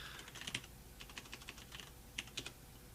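Quiet, close clicks of typing on a computer keyboard, arriving in short irregular bursts of keystrokes with a few sharper taps, alone without talk.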